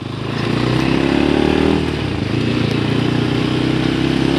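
A KTM Duke motorcycle rides over speed breakers on a road in Jharkhand, its engine droning steadily and close, with a brief dip in loudness partway through as the bike eases over the bumps.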